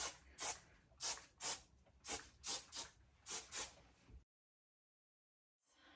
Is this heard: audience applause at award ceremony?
no